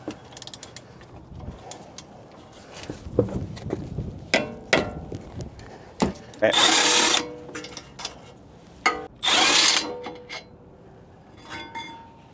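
A power tool breaks a bolt loose on an Acura RDX during CV axle work, with two loud sustained bursts of buzzing and rattling between clanks and handling of metal tools, close by and with no talking.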